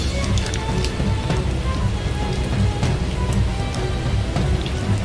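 Rain falls in a video game, a steady, dense patter of drops hitting surfaces with scattered brighter ticks, continuous and fairly loud throughout.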